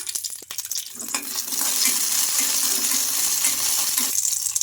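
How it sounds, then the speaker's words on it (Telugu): Green chillies fry in about a spoon of oil in a kadai, a few clicks and taps giving way to a loud, steady, close sizzle that lasts several seconds. "ఇంకా మిర్చి వేగడానికి కొంచెం ఆయిల్ అయితే వేసుకుంటున్నాను, 1 స్పూన్ దాకా."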